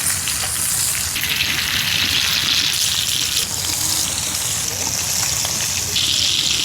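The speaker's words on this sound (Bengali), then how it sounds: "সয়াবিন তেল, তেল গরম হয়ে গেছে, মাছগুলো দিয়ে দিছি।" Whole hilsa fish frying in hot soybean oil, a steady, loud, close sizzle with hissing and spattering that keeps going without a break.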